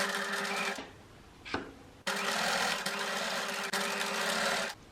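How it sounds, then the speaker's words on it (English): Sewing machine running in steady bursts as it stitches over a zigzag seam on stretched fabric for a smocked vest top, loud and close with short pauses between runs. "then we're actually going to sew over the top of that so it's all nicely covered"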